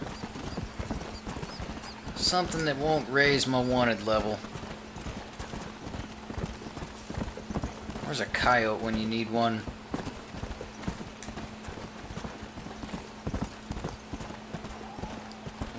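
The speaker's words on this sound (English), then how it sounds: "Is that a horse? That's a guy on a horse." Horse hooves clip-clop steadily beneath a voice in the Red Dead Redemption western game, a rider passing close by on horseback as talk continues over the rhythmic plodding.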